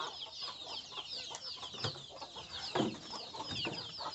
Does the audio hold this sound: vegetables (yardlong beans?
no